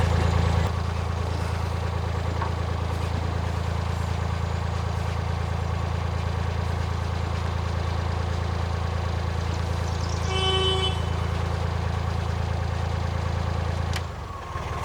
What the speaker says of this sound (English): that's why I sound my horns, just so if there's anyone in there